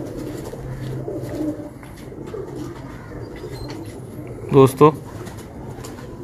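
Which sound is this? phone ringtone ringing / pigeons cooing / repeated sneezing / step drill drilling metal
pigeons cooing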